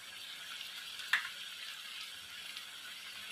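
Coriander stirred into water is poured over chicken frying in a pan for a Bengali chicken and potato curry, giving a soft, faint sizzle with one brief sharp hiss and clink near the start.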